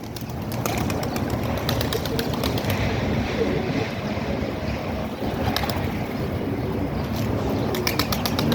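Young pigeons coo and flutter continuously close by in a coop, with a steady rustling wash of wings and shuffling throughout.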